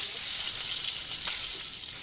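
Shol fish frying in hot oil in a pan, a steady bright sizzle and crackle with a few sharper pops, close and constant with no talking.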